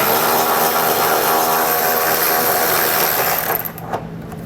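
A 10mm socket on a power tool spins out a bolt that holds a Curt trailer hitch hanger to the frame of a 2021 Ford Explorer. A loud, steady mechanical whir runs for several seconds, then trails off and stops.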